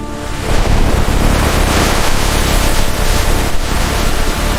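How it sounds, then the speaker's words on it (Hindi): Loud broadband water noise rushes and roars continuously, like a surging gush bursting from an old long-dry village well in a cartoon, dense and steady throughout with no speech. "अचानक कुएं से पानी उफान मारकर निकला"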